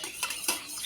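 A spoon clinks against a glass while stirring sherbet being made at home, a few light metallic taps and scrapes close by, quiet and without talk.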